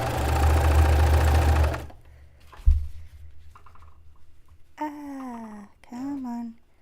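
A sewing machine runs in a steady close-up burst while stitching elastic onto a dress made from bed sheets, then stops; a short knock follows, and a voice speaks briefly afterward.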